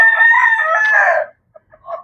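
A culs chicken, a young hen laying at around five months old, gives a loud, close run of clucking and crowing calls lasting over a second, followed by a few short, softer clucks.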